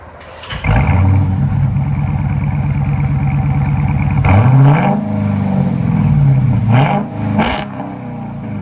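A 2021 Dodge Challenger R/T Scat Pack V8 with four Dynomax Race Bullet exhausts idles with a deep, loud rumble, then revs sharply several times, each blip rising and falling back to a throaty burble.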